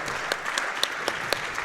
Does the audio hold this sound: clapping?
yes